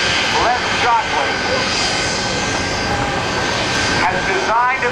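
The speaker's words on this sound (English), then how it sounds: "His dad, Les Shockley, designed and built the Shockwave Jet Truck" The Shockwave jet truck's engines roar continuously at the 2010 NAS Oceana air show, a loud, broad, steady jet rush with pulsing swells, heard under a commentator's talk.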